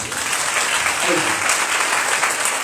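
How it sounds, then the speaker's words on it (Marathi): A Sunday church service congregation applauds loudly, producing a dense, continuous wash of clapping from many hands with faint voices underneath. "जिवंत लोक जोराने टाळ्या वाजवतील."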